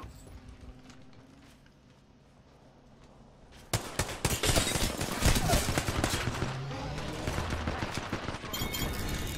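Rapid gunfire erupts in an Apex Legends battle royale match after a quiet start, dense overlapping bursts of shots continuing loudly to the end.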